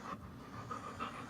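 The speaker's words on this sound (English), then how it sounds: "people have dogs that are panting that sound like trains" Dog panting, quick rhythmic breaths in short bursts repeating about every third of a second, faint and close with no voices.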